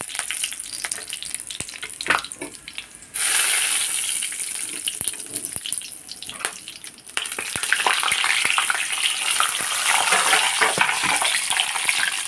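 Bay leaves, cloves and cardamom sizzle in hot oil in a kadai, a steady crackling hiss that swells louder and brighter at about three seconds and again near seven, with no talk.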